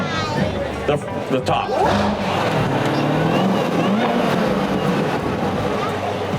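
A 650-horsepower 2017 Chevrolet Corvette Z06 C7 with the 3LZ package and its hardtop removed gives a loud, close engine roar with revving swells, and someone talks over it throughout.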